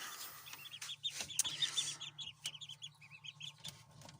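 Young ducklings and chicks in a small pen, giving a busy chorus of high peeping and cheeping. Faint scratches and knocks from the pen sit under it, and no one talks.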